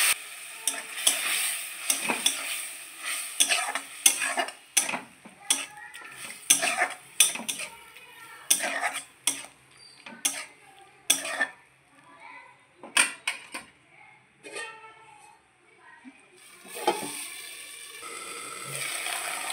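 Fried lentil dumplings (vadis) are stirred in a pan with boiled potatoes and ivy gourd greens. A utensil scrapes and clatters irregularly against the pan over a soft, steady sizzle.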